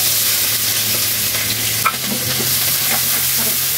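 Onions sizzle and fry steadily in hot oil in a Bengali home kitchen, a continuous close hiss with a brief stir or clatter midway and no talking.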